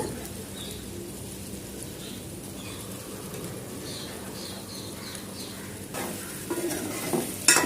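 Cleaned brinjals go into a hot pan for guthu vankayi pulusu and are stirred, giving a steady close sizzle with scraping stir strokes and a louder clatter near the end, with no talk.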